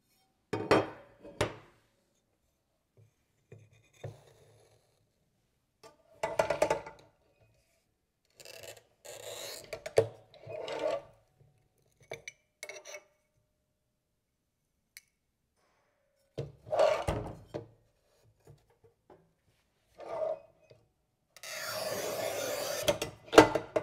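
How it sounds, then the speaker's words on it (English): Glass tile scored and snapped with a Montolit Masterpiuma P5 tile cutter on a rubber mat: scattered short scraping and clicking strokes between quiet gaps, close up, ending in a longer rasping scrape. "The same rubber mat could be very useful to cut glass tile like this."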